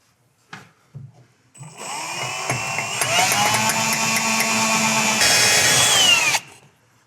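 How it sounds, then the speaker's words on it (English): A power drill bores out a rivet during a hitch installation, a loud steady whine with rising pitch that runs for about five seconds after a few brief handling knocks, then cuts off abruptly. "I'm gonna position my drill right on the center of that rivet"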